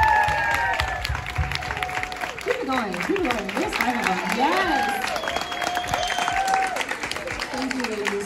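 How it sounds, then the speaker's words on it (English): Audience applause at an influencer event in Houston, a steady dense clapping that runs the whole time, with voices calling out and cheering over it. "Can we please give them a big round of applause?"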